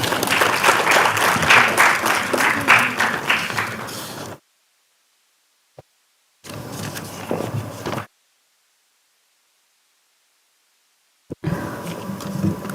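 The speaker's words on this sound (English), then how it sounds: "Let us welcome her with a big round of applause" Audience applause at a women achievers conclave, a sustained round of many hands clapping that cuts off abruptly, then returns in two shorter bursts separated by silence.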